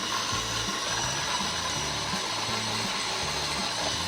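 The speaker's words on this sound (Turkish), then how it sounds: "Robotun kapağını kapatıp çalıştırıyorum." A food processor runs steadily, blending the ingredients for a Cretan dip, with a loud, constant motor whir and a rhythmic chopping rattle beneath it. No one talks.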